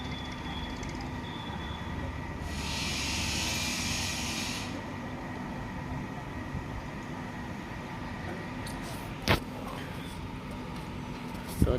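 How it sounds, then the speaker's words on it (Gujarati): Tractor making rounds on a farm where a JCB is also working, a steady rumbling engine drone at moderate distance, with a brief hiss midway and a couple of sharp knocks near the end. "અને આ ટ્રેક્ટર છે, અહીંયા ફેરા નાખે છે।"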